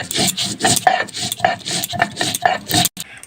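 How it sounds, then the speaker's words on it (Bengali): Ginger, coriander seed and whole cumin ground together into a paste on a grinding stone, a rhythmic rasping scrape repeated back and forth about a dozen times, close and loud, with no voices. "এবার এই মশলাগুলো একসাথে সব বেটে নেবো।"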